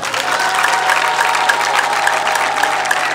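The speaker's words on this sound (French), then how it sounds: "On vous applaudit encore nos mamans." Steady applause from a crowd honoring mothers at a community ceremony, dense clapping sustained at an even level throughout, with no voices standing out.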